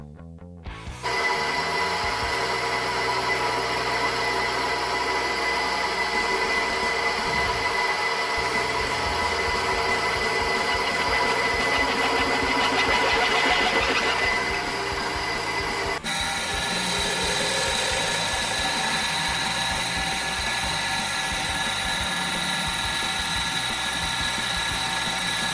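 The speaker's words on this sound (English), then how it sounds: "we started drilling the larger holes after the pilot holes were already drilled" A drill boring larger holes through parts that already have pilot holes, a sustained high-pitched whine with steady tonal bands that shifts pitch partway through as the load changes, with no talk.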